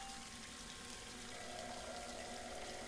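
Steady running water from a faucet in the game Scratches, a continuous even wash that holds level throughout with no voices over it.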